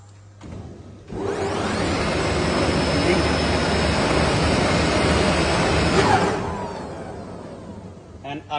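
A Rieter RSB D35 draw frame, a second-hand textile machine with servo drive, auto leveling and an automatic can changer, spins up to a loud, steady whirring roar for several seconds, then winds down.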